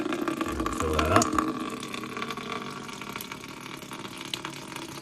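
Fresh water runs from a tap into a container in a home kitchen, a gushing splash that swells briefly near the start, then settles into a quieter steady trickle.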